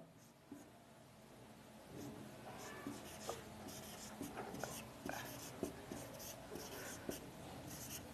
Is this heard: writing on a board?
yes